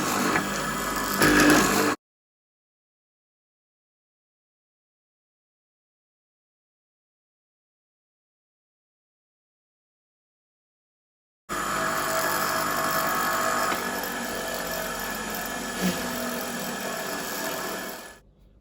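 Mortising machine cutting mortises in wooden door stiles, heard as a loud, steady motor drone close by, with a brief burst at the start, then a long silent gap before it runs continuously.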